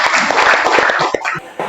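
A classroom group claps after a student presentation, a short burst of scattered, uneven claps close by that thins out toward the end.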